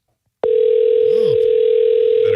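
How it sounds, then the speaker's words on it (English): A telephone on a live radio show gives a steady, loud single-tone ring that starts abruptly and holds unbroken to the end, with a faint voice murmuring briefly underneath. "Better answer the phone. Pick up, you criminal."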